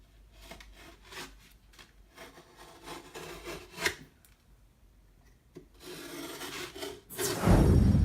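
A box cutter scores and slices through drywall in short, uneven rasping strokes, with a louder tearing burst near the end as the board gives way; no talking.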